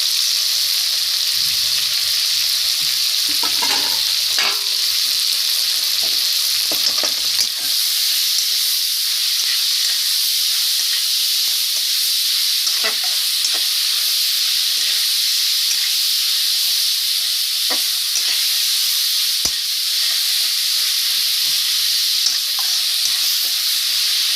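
Chopped onion greens and coriander fry in a pan with a loud, continuous sizzling hiss, occasional soft stirring clicks and scrapes breaking through near the start.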